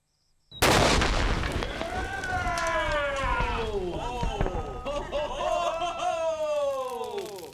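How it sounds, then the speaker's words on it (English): A C4 and propane blast goes off on a bomb range with corn set out nearby: a sudden loud boom, then a long, rough roar that carries on with excited voices calling out over it. "will the explosive C4 and propane cocktail cook the corn?"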